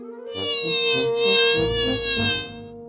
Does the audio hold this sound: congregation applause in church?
no